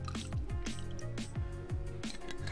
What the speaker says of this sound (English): Pour it in a glass,